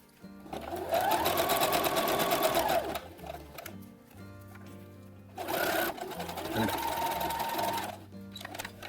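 A sewing machine works a wide zigzag stitch along a jumpsuit sleeve cuff in two bursts of fast, whirring stitching separated by a quieter pause, close up, with a faint voice between runs.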